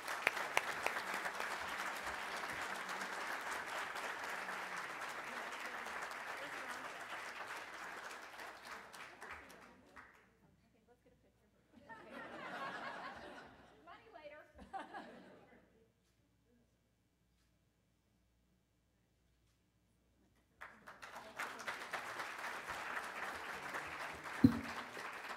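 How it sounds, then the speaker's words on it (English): Audience applause for scholarship recipient Carolina at a memorial scholarship conference, a sustained round of clapping that fades out, then a short pause with a few murmurs before another burst of applause returns near the end. "Let's please give a round of applause for Carolina."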